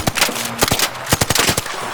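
Rapid gunfire from a weapon in the shooter game ARC Raiders, a quick run of sharp, loud shots in short irregular bursts, close and dominant with no speech.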